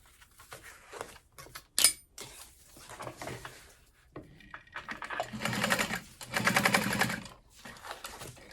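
A sewing machine stitches a handbag lining in several short runs with pauses between them. It gives close, fairly quiet mechanical rattles, and the last bursts are longer and steadier.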